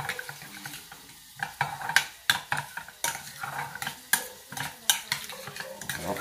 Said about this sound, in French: Et là, on remue gentiment.